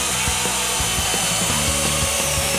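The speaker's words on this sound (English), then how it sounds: "I'll drill." A power drill running in short bursts while building a patio structure, driving into wooden posts with a steady whine and irregular rubbing and knocking of wood, loud and close with no talk.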